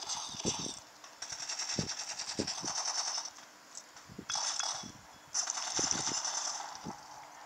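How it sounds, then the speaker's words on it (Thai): A backup gun fires in the Blitz Brigade video game, with sharp, quiet shots in short irregular bursts alongside mechanical clicks and a steady game hum. "ถ้ามันแหลกจริงๆก็ต้องใช้ปืนนี้แหละครับเป็นปืน สำรองที่ง่ายสุดละ"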